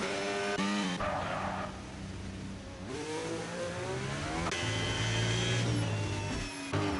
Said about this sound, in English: As Denhorn almost stalls his engine in the middle of a corner.